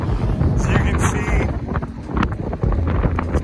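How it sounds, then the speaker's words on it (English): Strong wind in Tangier, Morocco, buffets the microphone in a continuous, loud rumbling roar with gusty swells, close and harsh throughout. "it's pretty windy."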